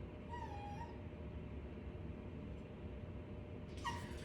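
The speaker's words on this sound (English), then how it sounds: "Sorry about my dog." A dog in a room gives two faint, high whimpering cries, one near the start and one near the end, over a steady hum of background noise with no speech.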